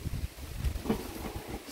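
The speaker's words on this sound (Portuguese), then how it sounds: "É barulho de vento, pessoal, aqui, ó." Wind blows outdoors on a summery day, a low, steady rumble and buffeting against the microphone with a soft rustle, moderate and continuous with no talking.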